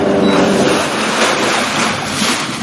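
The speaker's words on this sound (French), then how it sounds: "Et ça c'est le propulseur d'étrave." Bow thruster of a Bénéteau Océanis 62 sailboat running while moored, a steady loud broadband whoosh and rumble close by, continuous with no speech.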